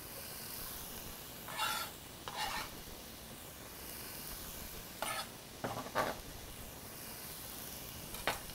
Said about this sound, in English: And I did put some olive oil in my skillet. Give those a stir.